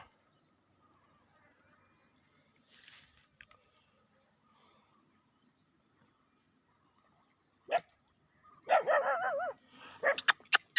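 Dogs at a Buddhist temple bark in short sharp bursts after a long quiet lull. They sound moderately near, with several quick yips and barks clustered toward the end and faint background noises before them.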